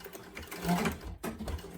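A sewing machine stitches a box through a bag's facing and connector, giving a quiet, steady mechanical whir with faint clicking.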